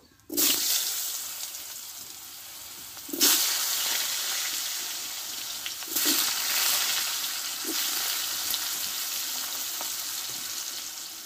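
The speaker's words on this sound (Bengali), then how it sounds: "আলুটা আমি এই তেলে একটু কষে নেব" Cut medium potatoes fry in hot oil for a Bengali fish-head cabbage dish, each burst of loud sizzling flaring up as they are stirred or turned, then settling into a steady crackling hiss, close by.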